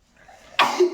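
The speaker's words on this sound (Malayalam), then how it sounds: "ഇവളെ തുമ്മലിന് ചുമയുടെ സൗണ്ടാണ്." A single short, sharp sneeze that sounds like a cough bursts out after a faint quiet lead-in, close and fairly loud.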